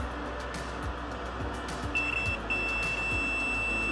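Steady electronic beeps from a multimeter's continuity tester, checking chips on a Samsung PN59D7000 TV board, sound over a constant low hum, starting about halfway through and holding on.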